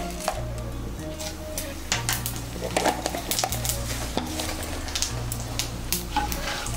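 Whole spices and cumin seeds sizzling in hot oil for a vegetarian chhana dalna, a bright continuous crackle with scattered pops, over a low steady hum.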